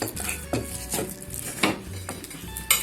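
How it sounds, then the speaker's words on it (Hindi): Raw chicken added to a pan and stirred while making chicken cheese patties: close metal utensil scrapes and clinks against the pan in irregular strokes over a faint background hum, with no voices. "अब हम इसमें अपना चिकन डाल देंगे।"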